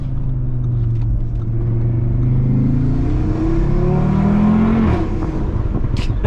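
A wrapped Audi RS3 with a 570 hp engine pulls hard while driving, its engine note climbing through the revs in a loud, close, sustained surge before a shift and a brief drop.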